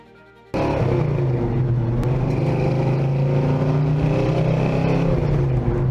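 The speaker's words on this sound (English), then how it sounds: "1968 Dodge Dart GTS 440." A 1968 Dodge Dart GTS muscle car with its 440 V8 bursts into a loud, deep, steady engine roar after a brief quiet start, rumbling on continuously near and alone.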